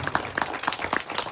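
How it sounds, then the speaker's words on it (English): A small audience claps for a guest speaker at a pickleball event at The Broadmoor, a short burst of distinct, close claps at an uneven rhythm. "Let's give him another round of applause"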